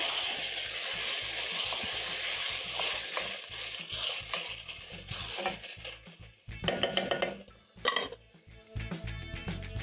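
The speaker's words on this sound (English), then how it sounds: "Stir in the carrots." A spoon scrapes and stirs carrots in a sizzling pan for Ugandan beef katogo, with frying crackle under irregular clattering strokes, close and moderately loud.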